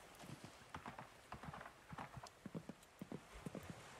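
Repeated hoof clip-clops of a horse in the Coral Island farming game, a steady trotting rhythm of close, crisp beats with no other sound over them.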